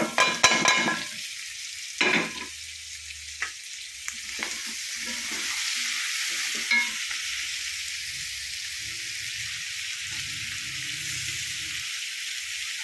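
Sautéed vegetables and tomato are stirred into fried chicken in a pan for chilli chicken, with sharp clatters of a spatula at first and then a steady sizzle carrying on under lighter stirring.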